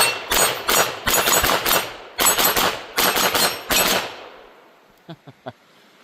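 Taurus TX22 Gen2 .22lr pistol emptying a 16-round magazine, sharp close shots in fast strings with short pauses, then a few faint metallic clicks and handling sounds as firing stops.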